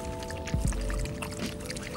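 Water poured from a container into a dog's bowl at a dog park, a short gurgling pour with a low splash near the start, then a soft trickle over a faint steady hum.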